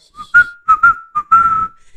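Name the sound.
whistled tune imitation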